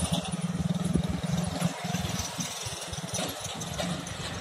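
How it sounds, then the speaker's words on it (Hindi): A 10-wheeler dumper truck engine rumbles steadily on a road under construction, a mid-level throbbing drone with rhythmic pulsing that carries on without pause. "डंपर आ रहा है"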